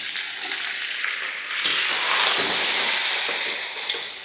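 Green chillies and tomatoes fry for a street-style tiffin centre tomato chutney, giving a loud, close sizzle. It rises into a fuller hiss as the tomatoes go in, and no one speaks.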